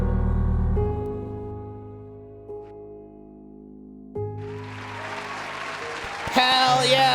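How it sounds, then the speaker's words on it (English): A canned cheering and clapping sound effect plays on a livestreamed game awards show, swelling in after a stretch of sustained musical tones and building to a loud, dense crowd roar at the end. "let me get some cheers going here"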